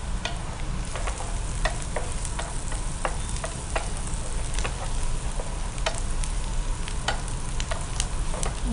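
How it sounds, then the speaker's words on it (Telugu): Onions frying in a pan with turmeric for an Andhra-style chicken fry: a steady, close sizzle with sharp crackles and the scrape of stirring, and no voices. "సో చక్కగా ఫ్రై అయినాయి కదా, ఆనియన్స్ కూడా మంచిగా ఫ్రై అయిపోయినాయి."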